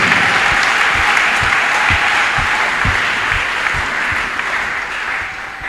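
A church congregation applauds loudly and steadily, with some cheering in the dense, continuous clapping throughout.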